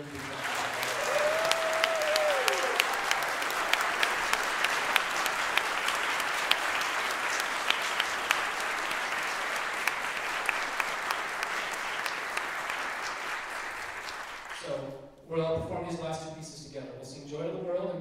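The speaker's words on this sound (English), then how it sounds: "So can we give all of these musicians a very big round of applause?" Loud, sustained applause from a festival audience for a brass band at a Christmas concert, steady clapping and cheering for about fifteen seconds before fading into a brief lull and murmur.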